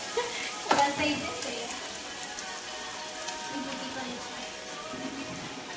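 Hot oil sizzling in a pan while chaufa fried rice cooks, a steady crackling hiss close by with a few sharper pops, and voices talking faintly underneath.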